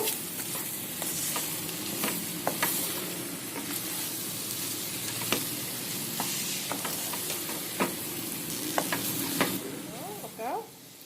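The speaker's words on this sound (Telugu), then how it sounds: "వేసిన తర్వాత ఒకసారి దీన్ని కదుపుకుందాం మనం" Spiced prawn and egg curry sizzles steadily in a hot pan while a utensil scrapes and stirs with sharp intermittent clinks, close and continuous.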